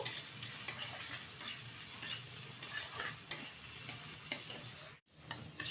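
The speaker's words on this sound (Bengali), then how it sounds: "ভালোভাবে উপকরণগুলো একসাথে কষিয়ে নেব।" Ginger garlic paste, salt and spices sautéing in a pan for a chicken pizza topping, a continuous close sizzle with intermittent scraping stir strokes and a brief drop near the end.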